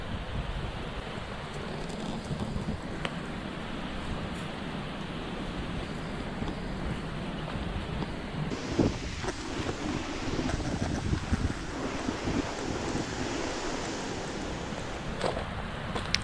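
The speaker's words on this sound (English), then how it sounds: "As you can hear, the river's getting louder as we get closer." A river rushes beside a narrow pine-forest path near Bonanza Falls, a continuous broad roar of moving water mixed with wind buffeting the microphone, growing a little fuller partway through.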